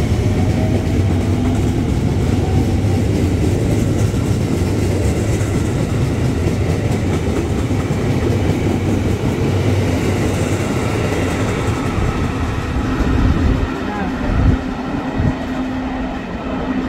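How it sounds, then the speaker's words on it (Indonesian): A KRL commuter train rumbles steadily through Manggarai Station in Jakarta, a loud continuous roar of wheels and carriages with rhythmic rail clatter that eases slightly near the end. "kereta api melintas langsung jalur 2"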